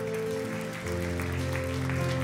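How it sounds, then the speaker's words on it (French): Applause rises from a gathered congregation at a church worship service, blended with sustained musical tones in the background, the clapping moderate and continuous. "Est-ce qu'on peut applaudir le Seigneur, les amis, ce matin encore?"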